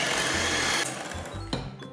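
An electric mixer whirs through eggs and sugar for gluten-free three-colour cupcake batter, a loud steady motor drone that eases off partway, then a brief knock and a softer tail.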